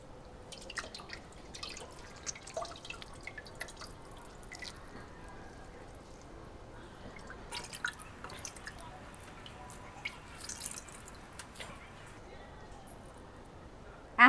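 Water trickles and drips steadily as cooked noodles drain in a basket, with scattered small splashes and patters, faint and close, fading into light drips.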